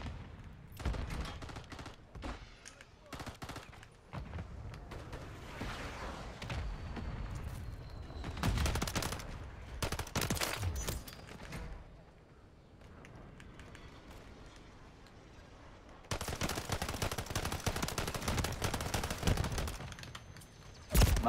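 Bursts of rapid gunfire in the first-person shooter Modern Warfare 3 on the Rust map, with a long sustained volley near the end and scattered shots and footsteps between, no speech.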